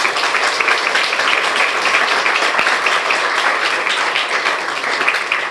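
A church congregation claps in welcome during an anniversary and ordination thanksgiving service: dense, sustained applause from a large crowd, loud and even throughout, with no speech over it.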